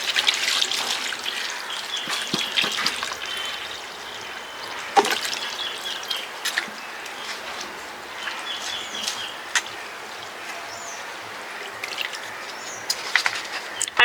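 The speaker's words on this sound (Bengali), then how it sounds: "হালকা হাতে চিড়াগুলো ধুয়ে নিতে হবে।" Flattened rice (chira) gently washed by hand in water, with soft sloshing, trickling and occasional drips over a steady wet background, birds faintly audible and no speech.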